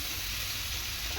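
Soybean chunks tossed into potatoes frying in a pan give a steady, soft hiss of sizzling oil, close and continuous with no voices.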